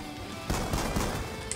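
Gunfire from a newly equipped weapon in the video game Black Ops 2, a short loud burst of rapid shots starting partway through and running to the end, heard alone without talk.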